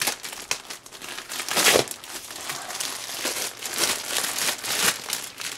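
A tightly sealed plastic package holding a leather jacket being opened, loud close crinkling and crumpling of plastic in irregular bursts, with no voices.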